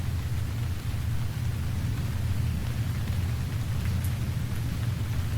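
Steady rainfall in the survival game Stranded Deep, a constant hiss of falling rain over a low rumbling drone, unbroken and fairly close, with no talking.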